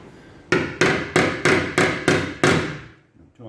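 A hammer strikes a metal Beetle trailer fender held against a dolly, seven sharp ringing taps at an even pace, close and loud, each decaying briefly before the next, then quiet.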